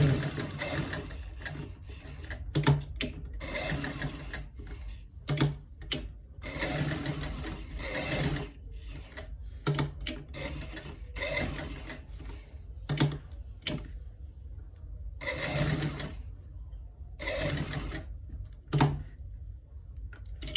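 A sewing machine stitches a long sleeve cuff in repeated short runs of a few seconds each, separated by brief pauses, close and steady.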